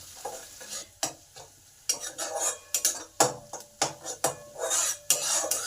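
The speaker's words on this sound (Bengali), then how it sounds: "এবার এই আদা লঙ্কাটাকে ভাজা ভাজা করে নিতে হবে।" Ginger and green chilli frying in a pan while being stirred, repeated scraping strokes of a utensil against metal over a soft sizzle, close and clear with no talk.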